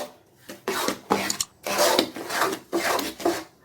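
Jaggery mixture for ABC malt is stirred in a pot, making rhythmic scraping and rasping strokes, about seven close bursts in quick succession with brief pauses between them, with no talk.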